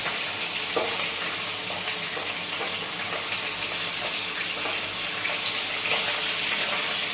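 Fish frying in a pan in a home kitchen, a loud, constant hiss of hot oil with a few soft clinks of stirring, steady throughout with no talking.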